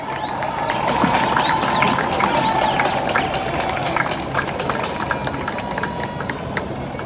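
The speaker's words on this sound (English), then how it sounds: "Keep the applause going for Pika." Applause and cheering from a crowd at a ribbon cutting ceremony for the Morant Bay Urban Center in St Thomas, Jamaica, steady and dense throughout, with faint whistles or tones above the clapping.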